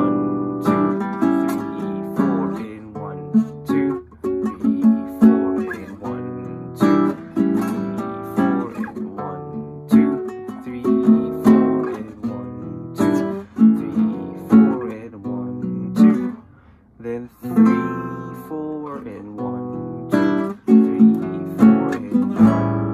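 The pre-chorus chords of a song strummed on an instrument in a steady rhythm, each chord ringing briefly before the next, played alone and up close.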